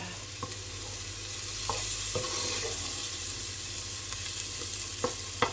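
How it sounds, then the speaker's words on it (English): Browning mushrooms fry in a pan with a steady sizzle, while a utensil stirs and scrapes through them in a few sharp, scattered knocks. "Just give that a stir."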